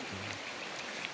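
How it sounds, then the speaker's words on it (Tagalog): Heavy rain pours down in a mountainous forest, a dense, steady hiss with no pauses over the whole brief stretch. "Ang lakas ng ulan."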